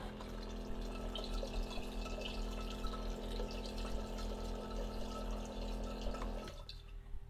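A water sprayer hisses in a steady stream as it pushes water out of the line, with faint dripping over a constant low hum before it cuts off abruptly near the end.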